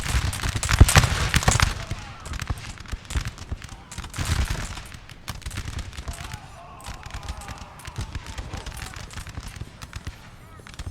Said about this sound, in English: They need as many guns firing as possible to the Prussians.